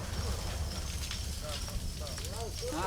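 Outdoor bonfire of brush and old branches crackles and roars at a farm site, heard under people talking in Portuguese.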